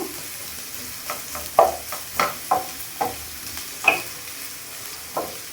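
Mutton fries and is stirred in a pan, a steady soft sizzle punctuated by about a dozen distinct scraping clicks of a spatula at an uneven rhythm, close and clear with no voices.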